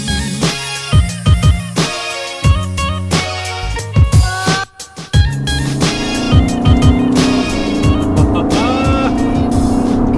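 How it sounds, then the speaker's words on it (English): A 2018 Aston Martin Vantage engine with sports exhaust revs hard and roars through rising gear changes, close and loud, with brief lifts and a sustained growl afterward. "I'm currently driving out of Aston Martin headquarters in a new Aston Martin Vantage."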